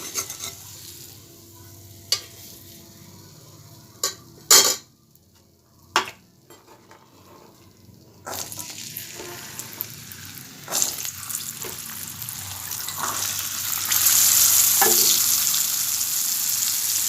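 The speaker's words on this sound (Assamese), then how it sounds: "এতিয়া ইয়াত বইল কৰি থোৱা বুটকেইটা দিম।" Boiled chickpeas and fried potato pieces sizzle steadily in a hot pan while a utensil stirs and scrapes, with occasional sharp clinks against the metal; the frying grows louder and hissier toward the end.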